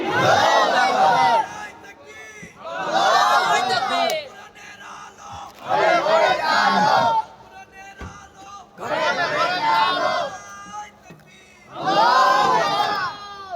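A crowd at an Islamic religious gathering answers the takbir call, chanting together in five loud, rhythmic bursts separated by short pauses.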